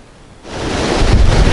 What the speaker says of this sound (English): This is river Inzer